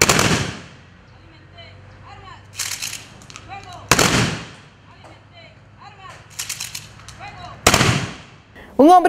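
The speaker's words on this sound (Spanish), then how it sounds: "una escolta policial realizó 3 disparos en conmemoración de los oficiales fallecidos." Three loud, sharp gunshots from a police honor guard salute ring out a few seconds apart, each echoing briefly, with faint murmuring and a bird chirping in the background.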